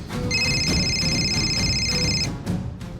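A phone rings with a bright electronic tone for about two seconds, then stops, over a low background hum.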